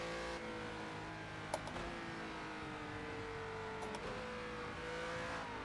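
Engine of a Renault Cup race car in Project CARS 2 at Circuit of the Americas, a steady loud drone with pitch climbing and dipping through gear shifts, plus brief clicks.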